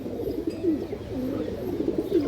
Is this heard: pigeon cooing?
yes